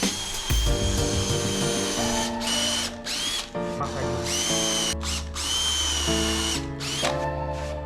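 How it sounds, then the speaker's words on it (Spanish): A power drill drives screws into a homemade wooden wheelie trainer, or manual machine. Several loud, close whining bursts rise and fall in pitch as the motor speeds up and slows, with brief pauses between runs and no talking. "Entonces vamos a ponerle los tornillos."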